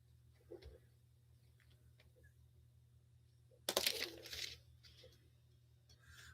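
A 1 pound steel Valvoline grease can being handled, giving a few faint light ticks and then one brief louder metallic rattle and clunk over a quiet background hum.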